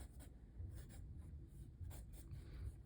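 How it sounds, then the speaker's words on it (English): A kneaded eraser rubbing pencil guidelines off drawing paper, a quiet, continuous scrubbing with faint rhythmic strokes, close up. "I'm going to use my knead eraser to erase that, just the guidelines"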